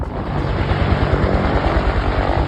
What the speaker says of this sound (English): Okay, we've got the chopper in the background.